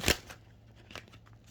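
Tarot cards are shuffled close by in two quick, soft riffling bursts, the first sharper and the second fainter, with near silence between them.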